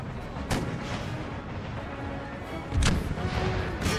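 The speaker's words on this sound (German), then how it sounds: "wir werden jetzt einfach hier unsere Kanonen wegballern" Cannons firing in the strategy game Total War: Empire with the Darth Mod, heavy booming shots at irregular intervals over a constant rumbling battlefield din.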